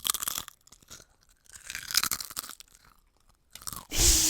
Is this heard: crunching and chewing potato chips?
yes